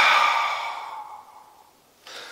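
One long, breathy open-mouth exhale during a breathing exercise with pelvic floor contraction fades slowly over about two seconds. A short soft breath follows near the end.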